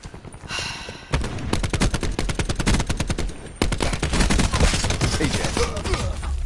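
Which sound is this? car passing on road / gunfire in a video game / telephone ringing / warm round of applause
gunfire in a video game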